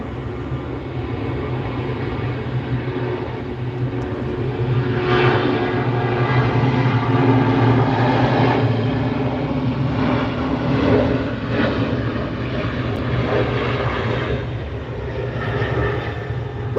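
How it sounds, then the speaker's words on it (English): An Airbus A320 takes off at SNA airport, a sustained loud jet roar that swells in the middle and then holds steady as it climbs away, with no voices. "our last aircraft for today will be the Legion Airbus A320"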